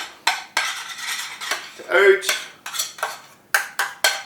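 A metal spoon scraping and clinking against a cooking pot while scooping out cooked oatmeal porridge, a series of sharp close scrapes and knocks in an uneven rhythm, with no talking.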